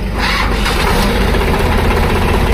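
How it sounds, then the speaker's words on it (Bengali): A Sonalika DI 47 tractor diesel engine at a second-hand tractor showroom, cranking and catching into a loud, steady rough idle heard close up throughout. "এই যে ইঞ্জিনের আওয়াজ নিশ্চয়ই পেয়ে গেছেন।"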